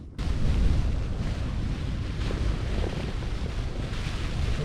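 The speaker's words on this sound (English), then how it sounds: "It's a little bit windy and chilly outside" Steady, rushing wind buffets a tent close by on an exposed hill summit in Shropshire, a broad low roar with gentle gusts swelling and easing throughout.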